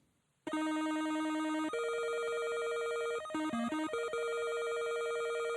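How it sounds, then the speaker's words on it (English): A ringtone-like electronic melody from Scott Pilgrim vs the World bursts in after a moment of quiet, playing bright, sustained synthetic tones that shift pitch in steps, loud and alone. "I think that I might make that my ringtone for whenever one of you guys call."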